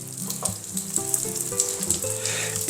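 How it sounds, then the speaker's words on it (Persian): Beef tail fat sizzling steadily in a dry pan with no oil, a close, continuous crackle and hiss with faint tonal hum underneath, prepared for koobideh kebab with vegetables. "دنبه رو اول همینجوری میذارم داخل تابه بدون روغن"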